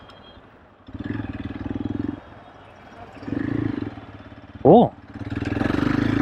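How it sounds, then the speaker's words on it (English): Hero Xpulse 200 motorcycle revving and pulling in third gear, engine note rising in bursts with pauses between, fairly close, and a short voiced exclamation cutting in partway. "let's see how the bike operates from second gear. No, third gear."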